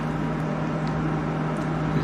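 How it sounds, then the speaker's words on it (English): A steady low electrical hum drones without a break from a microwave oven heating beans close by, with no talking over it. "the beans are heating in the microwave"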